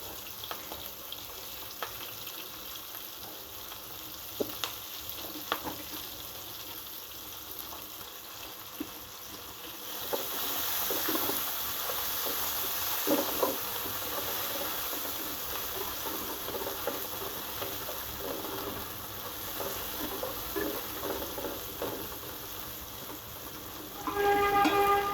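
Onions and green chili frying in a pan, a steady low sizzle that swells louder as fresh ingredients hit the oil, with light stirring clicks and scrapes.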